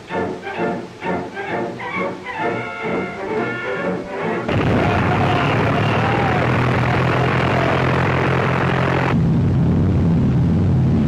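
Mitchell medium bombers of a WWII attack group take off on the Wewak campaign: first a rhythmic, pulsing propeller-engine thrum, then a sudden loud, sustained roar of engines at full power that stays strong and close.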